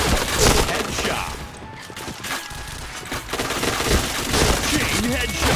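Bursts of rapid gunfire in a shooting video game, loud and dense, layered with game effects and a voice talking over the action throughout.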